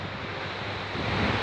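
A river flowing toward the sea, a broad rushing wash of water mixed with wind buffeting the microphone, steady and close for a moment.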